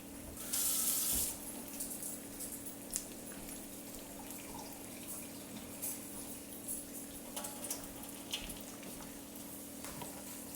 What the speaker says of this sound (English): Quick rinse of the hands here